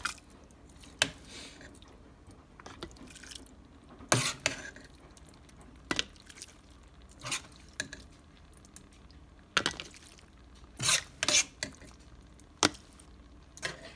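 Spoonfuls of taco meat going into a quart canning jar, heard as soft wet squishes and sharp clinks of a utensil against glass in scattered bursts, close and alone with no talking.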